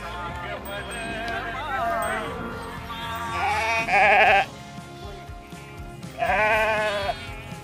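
A flock of sheep at the Balumama bhandara yatra in Admapur bleating repeatedly, with loud close bleats around four and six seconds over a crowd murmur and people talking.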